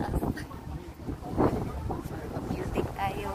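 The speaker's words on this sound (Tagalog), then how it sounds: "Sobrang mahangin sa labas." Strong wind buffets the microphone outdoors at Dubai Creek Harbour, a steady roaring rush with gusty swells, with faint voices underneath.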